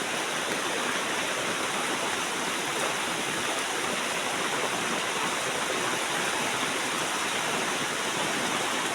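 Heavy rain pours down in a steady, dense hiss without pause, loud and even throughout, with no voices.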